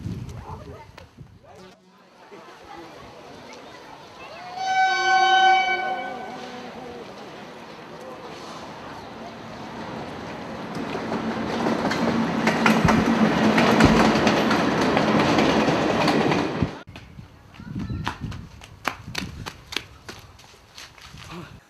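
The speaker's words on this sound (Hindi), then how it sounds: "अरे रेल चल रहा है, दिल्ली तक जा रहा है।" A train running on rails to Delhi, its steady clickety-clack rumble building loud and continuous for several seconds before cutting off, with people talking around it.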